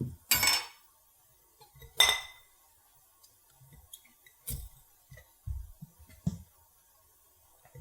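Sliced dill pickles being packed tightly into a glass canning jar, heard as a few sharp glassy clinks and knocks with soft squishy thuds between them, close and quiet with silent gaps.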